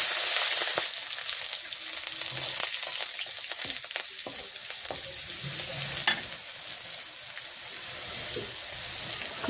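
Whole garlic cloves, bay leaf and radhuni seeds sizzle steadily in hot oil in a village kitchen, a continuous crackling fry with occasional stirring scrapes and faint watery sounds.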